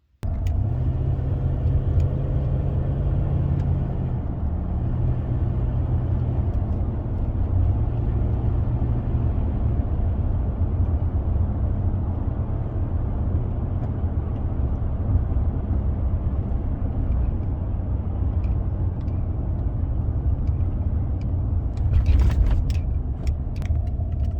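Steady engine rumble and road noise heard from inside a car on the way to church, continuous and even throughout, with a brief clatter near the end.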